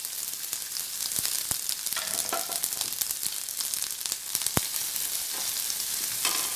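Sliced onion sizzling in hot oil with popped mustard seeds and urad dal for a smoked brinjal thokku, a steady close-up frying hiss with faint crackles throughout and no talking.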